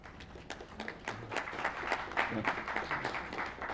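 Audience applause at a press conference, a dense spread of many hands clapping that carries steadily through the whole stretch at moderate loudness, with no words spoken over it.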